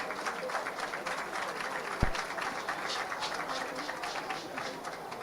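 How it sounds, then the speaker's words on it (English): Audience applause at a live church-style gathering, continuous moderate clapping from a crowd with a brief low thump partway through. "Can you please give them a round of applause?"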